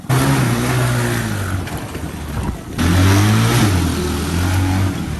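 A mini jeep engine revs hard and steady close by, dipping briefly in the middle before climbing back to a loud, sustained drone.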